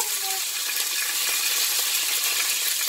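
Food sizzles loudly and steadily after being dropped into a hot pan, a dense, continuous crackle with no voices over it.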